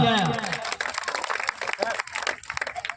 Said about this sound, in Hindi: सुमित के लिए जोरदार तालियां।